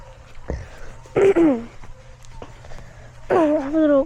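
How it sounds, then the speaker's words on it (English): A person with a slight cold gives a couple of short coughs or throat-clearing bursts, one near the start and a louder one past three seconds, with quiet room sound between them. "I have a little cough."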